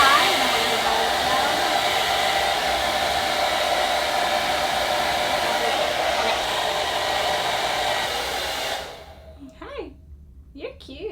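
An Instyler blow dryer runs on high heat with the airflow dialed low, a steady close whooshing hiss that cuts off near the end, followed by a few faint sounds in the quiet.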